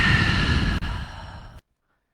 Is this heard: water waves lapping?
no